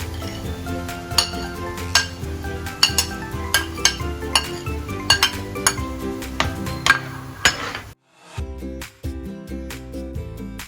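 A metal ladle clinks and scrapes against a pan while salted egg prawns are stirred, with rapid irregular clanks over a sizzling bed, a brief pause, then more stirring.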